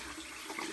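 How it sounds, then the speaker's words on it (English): Warm water running and splashing while a washcloth is rinsed for a face wash, a brief steady hiss of flowing water heard close and fairly soft, with no voices. "So I'm gonna rinse this off with some warm water on my"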